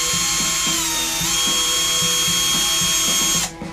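Bosch GSR 18-2 Li Professional cordless screwdriver running in its low first speed setting, a loud close motor whine with a rhythmic ratcheting pulse about twice per second, cutting off abruptly near the end.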